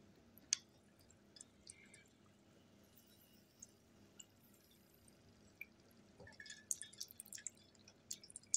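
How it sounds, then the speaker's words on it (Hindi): Water is poured over a lump of multani mitti clay and drips off it: faint, scattered drips and small trickles in a quiet room, becoming busier toward the end. "और थोड़ा सा पानी इसके ऊपर पोर कर दीजिए।"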